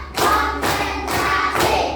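Students clapping in unison during a classroom clap game used as an ice breaker, with four loud synchronized claps in a steady, evenly spaced rhythm, close by.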